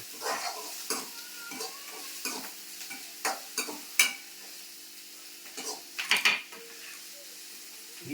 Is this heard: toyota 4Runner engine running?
no